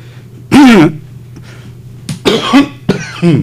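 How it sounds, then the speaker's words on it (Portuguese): A loud, close cough followed by a couple of rougher throat-clearing bursts, with brief pauses between them. "eu tenho um pigarro"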